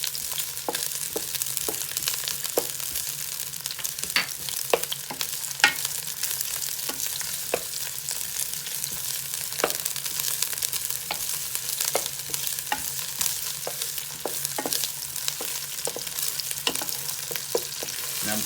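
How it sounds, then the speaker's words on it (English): Onions sautéing in a Power XL cooker, giving a steady close sizzle and frying hiss with scattered scraping stir clicks throughout, no talking. "Put my onions in. Just saute them just a little bit."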